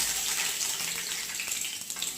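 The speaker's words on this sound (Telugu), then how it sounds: "ఇప్పుడైతే పోపు వేసుకోవాలి." Spices and lentils tempering in hot oil, with a steady, bright crackling sizzle close by and no talk.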